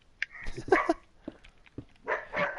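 Several dogs bark in short, sharp bursts, a few single yips followed by a cluster of barks and a later volley, fairly close and moderately loud with no talk over them.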